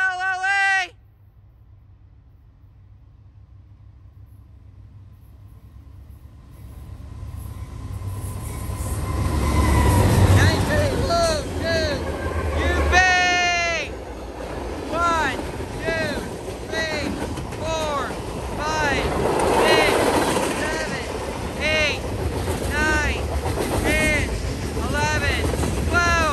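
A Dash 9 diesel locomotive leading a four-engine Southern freight local sounds its horn in repeated blasts over a rising rumble of engines and rolling wagons, with talk in between.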